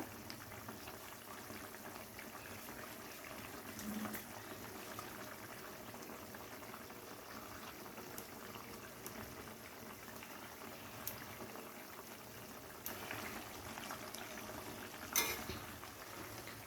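Tangra fish curry with lentil dumplings simmering in a pot, a soft continuous bubbling with faint occasional utensil clinks and no talking.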